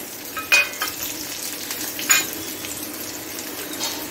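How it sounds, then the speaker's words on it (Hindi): Sliced onion, green chillies and curry leaves sizzle in hot oil while being stirred for rava upma, a steady crackle with a few sharper scrape and spatter bursts up close. "ये देखिए प्याज अच्छे से भुन चुकी है, अब हम डालेंगे हरी मिर्च,"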